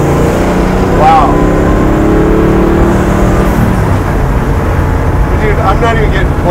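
Kevin Hart's twin-turbo Camaro revs and accelerates, its engine loud and close with rising and falling pitch as it pulls toward about 5,000 RPM. People talk over the engine noise.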